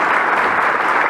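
Loud, dense applause from a crowd marks the centenary of the Racing club, a continuous close clatter of many hands clapping at once.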